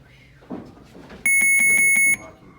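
A boxing gym timer buzzes loudly to mark the end of a round. It sounds one steady electronic tone with a pulsing edge for about a second, after a short stretch of faint room noise.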